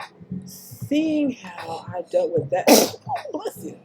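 A single loud, sharp sneeze bursts out midway through casual conversational talk, with speaking before and after it.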